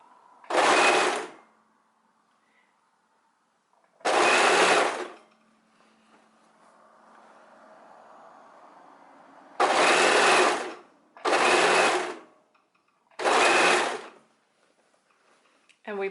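A sewing machine stitches a fabric seam on a scarf top in five short bursts of about a second each, loud and close, with quieter gaps of fabric handling and soft talk between.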